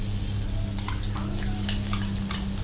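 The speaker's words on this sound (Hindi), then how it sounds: "तो अब तेल गर्म हो चुका है, इसमें हम लोग डाल रहे हैं जिंजर एंड गार्लिक" Ginger and garlic hitting hot olive oil in a pan for homemade veg fried rice, giving a steady, close, loud sizzle with a few stirring scrapes and no talk.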